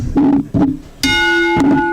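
A wrestling match bell rings twice in sharp succession at a live arena event, its bright metallic tone lingering briefly after some low rumbling crowd or arena noise.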